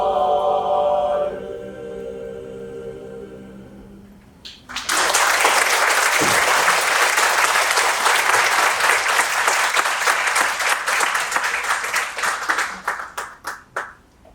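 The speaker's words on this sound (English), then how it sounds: "Let's give them another round of applause." Audience applause after a song performance breaks out as the final sung notes fade. The clapping is loud and sustained for about ten seconds before it thins into scattered claps.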